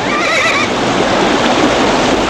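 Frightened horses whinnying amid a loud, dense wash of broadband noise, a shrill neigh rising briefly near the start and the rest blurred into a constant roar with no talk.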